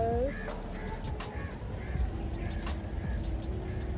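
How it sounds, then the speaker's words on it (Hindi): Birds call and chirp outdoors during rain, with scattered short calls at moderate distance over a soft steady patter of rainfall. The calls come in irregular bursts and no one speaks. "Enjoy the rain, enjoy the sounds of birds."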